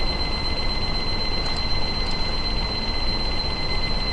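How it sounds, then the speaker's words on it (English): Alarm timer going off beside a distillation setup for cannabis oil with alcohol, a steady high-pitched tone held continuously over a constant background hum, with two faint brief clicks midway. "Turn the alarm off."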